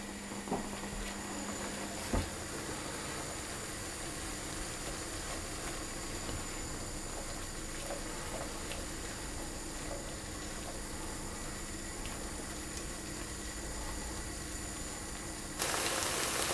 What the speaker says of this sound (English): I'm going to put my onions in as well, and I'm going to sweat those down until they soften